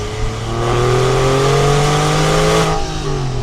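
The engine of a 2002 Porsche 996 C4S revs in one sustained, rising pull, its strong harmonic drone climbing steadily in pitch before easing off near the end, loud and close with no talking.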